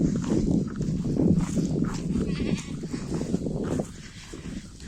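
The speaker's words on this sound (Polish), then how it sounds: "Doli, owca, która myśli, że jest kozą, je sobie razem z kozami." Sheep and goats bleat repeatedly nearby, overlapping calls with some shuffling, the sound easing off toward the end.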